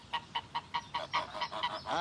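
Geese honking in an orchard, a steady run of about ten nasal honks in quick rhythm, fairly close and clear with no talk over them.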